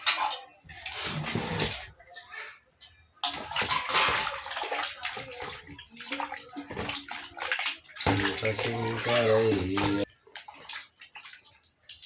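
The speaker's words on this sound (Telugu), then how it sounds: "ఇప్పుడైతే నేను ముల్లంగి నీళ్ళు వేస్తున్నా కడగడానికి" Water gushes and splashes in bursts, poured and sloshed in a container to wash radishes, with a brief voice between pours and a clink of dishes.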